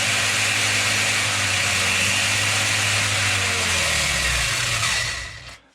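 An RC car motor driven by a Rlaarlo Surpass 60A ESC revs with a loud, sustained high whine that holds steady, then winds down and cuts off near the end.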